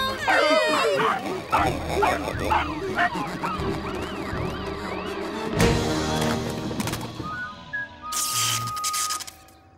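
A cartoon ghost dog lets out yips, whimpers and playful barking amid animated sound effects and whooshes, close and lively, with voices mixed in.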